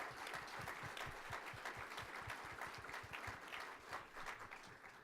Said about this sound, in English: Please give her that round of applause.